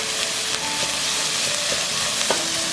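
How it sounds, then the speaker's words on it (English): Rice being stir-fried with onions in a hot pan for Thai shrimp basil fried rice, a steady close sizzle broken by a few sharp scrapes and clinks of the spatula, with no talking. "I'm gonna mix the rice really quick."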